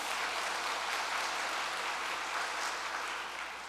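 An audience applauds during a Korean lecture on True Mother's birth, a dense, even roll of clapping from a seated crowd that holds steady and tapers slightly at the end.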